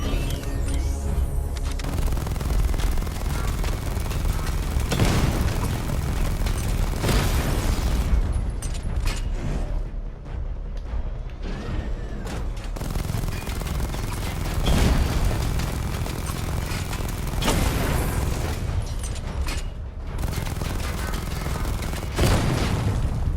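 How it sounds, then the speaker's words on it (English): Heavy vehicle cannon fire and a missile barrage from an armored Batmobile in a dark superhero game, repeated booming blasts and explosions over a steady loud rumble, dense and close throughout. "Destroy targets to charge up weapon energy and activate missile barrage."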